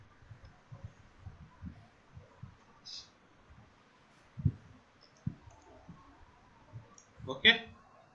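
Computer mouse clicks at a desk: a few sharp, close clicks spaced seconds apart over a low hum and soft background murmurs, with brief quiet voice sounds in between.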